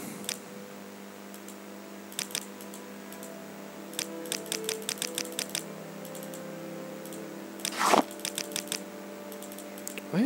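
A name is typed on a computer keyboard during a Morrowind play session: sparse single clicks, then a quick run of keystrokes, a louder rustle, and a few more taps, close and distinct over a steady background hum.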